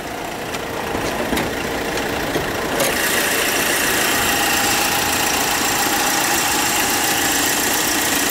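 A brand-new car's 2-litre boxer diesel engine idles: a loud, steady, close drone with even rumbling throughout and no talk.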